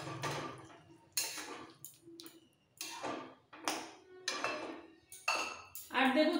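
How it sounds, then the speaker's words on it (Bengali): Fried eggs go into a simmering potato and egg curry in a pot, giving a series of close metallic clinks and taps of utensils against the pot at a steady, uneven pace. "ভেজে রাখা ডিমগুলো দিয়ে দিচ্ছি।"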